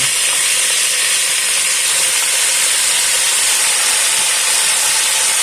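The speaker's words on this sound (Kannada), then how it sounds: "ನಾವೀಗ ಇದಕ್ಕೆ ನಾವು ತಗೊಂಡಿರುವಂಥ ಟೈಸನ್ ಕೋಳಿಯನ್ನು ಇಲ್ಲಿ ಹಾಕುವ." Tyson chicken dropped into hot tempering in a pan for a Tulu-style chicken curry (kori gassi), giving a loud, steady, hissing sizzle that holds unbroken for several seconds.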